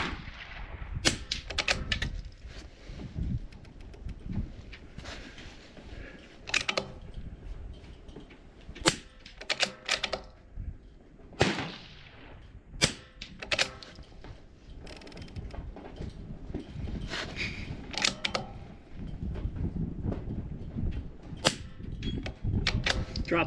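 Rifle shots fired from a prone position crack out sharply at irregular intervals, interspersed with mechanical clicks and clatter of the rifle's action, fairly close but quiet overall.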